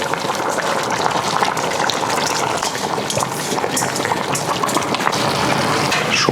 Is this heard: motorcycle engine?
no